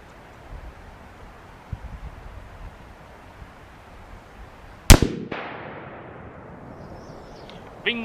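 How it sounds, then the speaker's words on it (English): A single loud gunshot from a 6.5 Creedmoor Ruger American bolt-action rifle cracks sharply midway through a quiet, breezy outdoor range, followed by a rolling echo that fades. "But let's take this third shot,"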